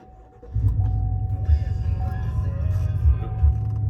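Pickup truck engine cranking and catching, then settling into a steady low idle rumble heard from inside the cab, close and continuous.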